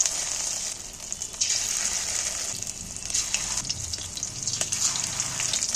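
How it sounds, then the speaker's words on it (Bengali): Egg-coated prawns dropped one at a time into hot oil, giving a steady, close sizzle and hiss with soft bubbling swells throughout. "এবার আমি মাছটাকে এর সাথে ভালো করে মেখে নিয়ে একটা একটা করে ডুবিয়ে তেলের মধ্যে দিচ্ছি"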